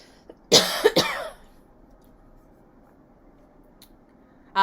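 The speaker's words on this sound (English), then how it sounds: "Sorry, I'm about to cough." Two sharp coughs close to the mic in quick succession, then quiet with faint background hiss.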